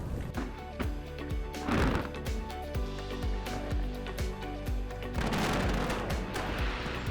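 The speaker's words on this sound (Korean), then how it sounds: "드디어 불꽃놀이가 시작됐습니다." Fireworks pop and boom in quick succession, sharp bursts crackling over a continuous rumbling background, with a few louder crackling flurries.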